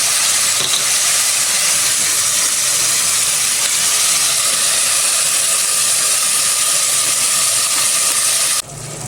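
Chicken gizzards simmer over medium heat in a pan with pepper, giving a steady loud hiss and sizzle that runs unbroken and close, then drops slightly near the end.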